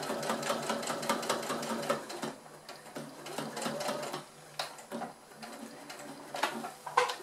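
A sewing machine stitches fabric while a DIY fabric sewing-tool storage mat is sewn, running close and steady in bursts with brief pauses between runs.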